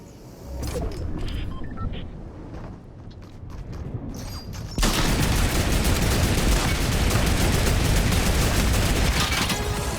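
Fortnite shotgun and SMG gunfire in a video game, dense rapid shots with occasional louder blasts, becoming a loud continuous barrage in the second half.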